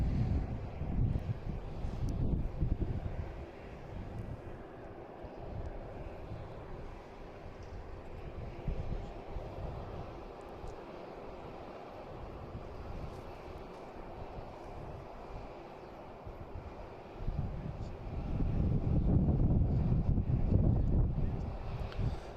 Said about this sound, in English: Next taking off should be a Cape Air heading to Nantucket.